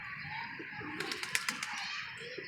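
A pigeon coos softly close by while a brief flurry of flapping wings rises over a quiet outdoor background.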